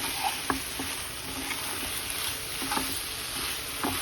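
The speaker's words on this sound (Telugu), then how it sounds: "ఇప్పుడు పంచదార వేసాక మళ్ళీ కొంచెం అవుతుంది. బాగా కలుపుకుంటూ ఉండాలి." Pumpkin halwa with sugar stirred in a pan, a close sizzle with repeated scraping clicks of the spoon against the pan at an irregular rhythm.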